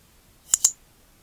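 Two quick, close computer mouse clicks, the right button pressed to save an image, sounding as crisp sharp taps about a tenth of a second apart in an otherwise quiet room.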